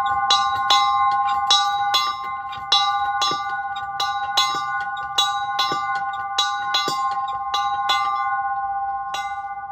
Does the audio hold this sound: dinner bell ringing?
yes